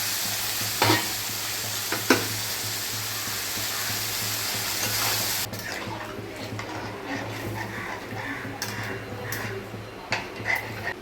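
Masala for Bengali doi potol curry being sautéed in a pan, with a steady close sizzle and frying hiss and the scrape of stirring throughout, a few sharper clatters, then a somewhat quieter sizzle in the second half.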